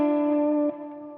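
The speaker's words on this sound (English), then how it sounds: "it's still stereo sound because of the modulation of the reverb" A guitar played through a stereo delay with modulated reverb holds a bright, sustained tone. A slight shift in the middle drops it to a softer, lingering wash.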